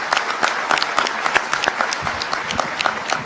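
A crowd at a political talk applauds, dense steady clapping close by for a few seconds, with no voices over it.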